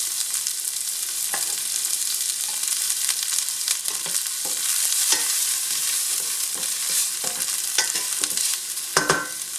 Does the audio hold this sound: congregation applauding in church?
no